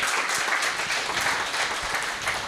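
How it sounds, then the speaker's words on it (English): A conference audience at a roundtable on African universities gives a panel a sustained round of applause, a thick, even roar of clapping hands that stays loud and steady from start to finish. "Please, let's give them a good round of applause."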